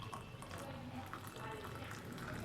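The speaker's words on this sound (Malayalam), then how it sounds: "ഒരു ഗ്ലാസ്സിൽ ഒഴിക്കുക." Filtered tea pours into a glass, a soft continuous liquid trickle at low level, with a voice speaking faintly over it.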